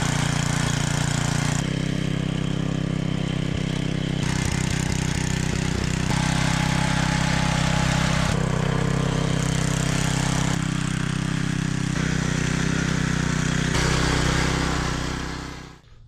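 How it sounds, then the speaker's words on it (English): A rototiller tilling soil between plant rows: a steady, loud small-engine drone runs throughout with a slight rhythmic chug, fading at the very end; no talking. "So we'll do this now with the rototiller right next to the plants"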